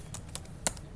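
Keystrokes on a computer keyboard while a baud-rate command for a network switch is typed, a few quick clicks spread across one second, with one sharper tap standing out near the end.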